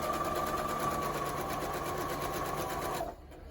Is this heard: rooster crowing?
no